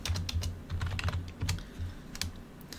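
Someone types a search query on a computer keyboard, tapping keys in a quick uneven run that pauses and resumes, close-up over a steady low hum.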